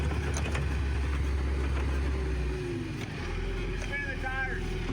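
A Euclid scraper's engine runs with a low, rumbling drone as the big machine is cranked over in gear, a steady deep hum with brief shifts in tone and faint background noise.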